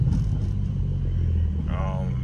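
A Mercedes W210 car engine strains while stuck in first gear, a steady low rumble droning throughout at close range, with someone talking over it.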